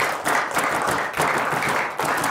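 A group clapping fast and hard in a burst of energetic rhythmic claps during a GenQi massage-device class, the sound dense and loud with short dips between volleys.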